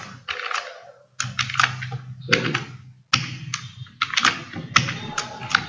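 A computer keyboard clatters close up as C code is typed, with bursts of rapid key presses separated by brief pauses.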